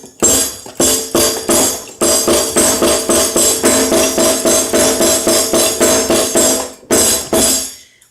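A homemade compact portable drum set played in a fast, steady pattern of dense bright hits with a few brief pauses, loud and close with no voices.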